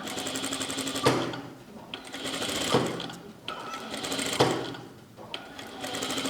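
A sewing machine stitches inside the seam of a shirt, running in several bursts of steady rapid stitching separated by short pauses and clicks, close and fairly loud.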